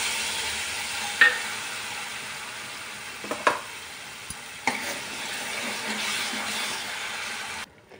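Masala spice mix with red chilli powder, mustard seeds and turmeric sautéing in oil for spicy vada rassa, giving a steady low sizzle broken by a few sharp stirring clinks of a spoon against the pan.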